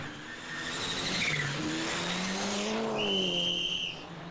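A Mitsubishi rally car engine roars and revs as it drives past at speed through a misty forest during the 1988 Cartel Rally, the pitch shifting up and down with gear changes, with no voices.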